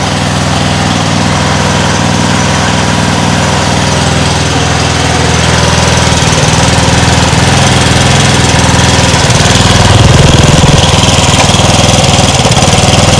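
A homemade outboard motor built from a lawn mower engine runs steadily at close range, a loud continuous buzzing drone with a slight rise in intensity toward the end.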